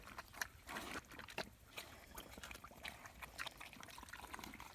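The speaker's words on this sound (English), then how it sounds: "I can hear him blowing bubbles in it." Soft bubbling and gurgling in liquid, irregular little blips and trickles, quiet and close, as an animal blows bubbles into a wet mix.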